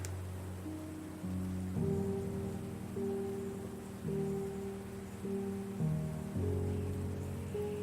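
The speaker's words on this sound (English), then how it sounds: "It's raining." Steady rain patters continuously in the video game The Red Strings Club, with a low sustained hum and tonal drones layered underneath.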